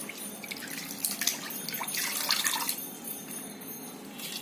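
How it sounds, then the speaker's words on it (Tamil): Water splashes and trickles as dried anchovies are squeezed and rinsed in a basin, steady wet sloshing close up with no talking. "பாருங்க இந்த மாதிரி பிசைஞ்சு கழுவி தண்ணியில அலசி எடுத்து போடணும்"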